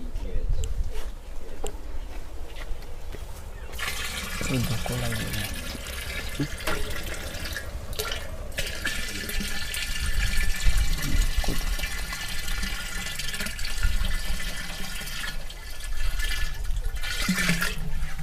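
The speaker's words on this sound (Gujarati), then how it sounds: "દસ લીટર નાખ્યો બરાબર છે બરાબર ત્યાં ગૌમૂત્ર ઉમેર્યા બાદ" Ten liters of cow urine poured into a container to make jivamrut, a steady splashing liquid stream running continuously and fairly loud, with brief voices over it.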